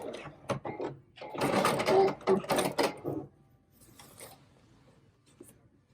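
A sewing machine double-stitches men's slacks in a few short bursts, a brief stutter then a louder sustained run of about two seconds, followed by quiet with faint clicks.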